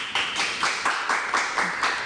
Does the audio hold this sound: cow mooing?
no